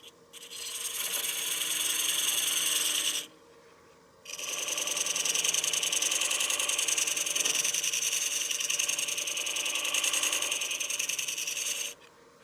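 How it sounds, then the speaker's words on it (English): A wood lathe turns a wooden platter as a tool rubs and scrapes across the spinning face. The steady loud rasp breaks off for about a second near three seconds, resumes, then stops near twelve seconds. "I'm going to stop the lathe and take a look."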